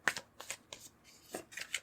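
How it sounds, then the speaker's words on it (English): Tarot cards drawn from a deck during a card reading: several crisp shuffling and sliding card sounds in quick clusters, near and fairly quiet, with no talking. "Let's pull a card for each of the"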